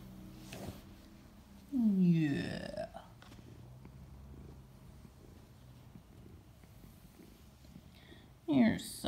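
A female cat purrs close by in a steady low rumble throughout, while a person speaks in two short bursts over it.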